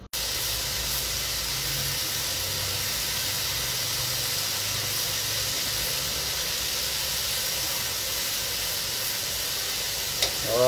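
Cooking oil heating in a pan for pork steak, giving a steady, even hiss that holds at one level throughout with no talking.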